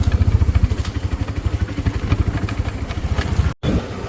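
A motorcycle ridden along a village road gives a close, steady low engine thump with rapid even pulses, cutting out for a moment near the end.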